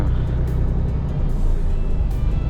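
A car cruising along Kyiv roads on a quiet Saturday, its engine and tyre rumble a steady, close, low drone throughout with no talk.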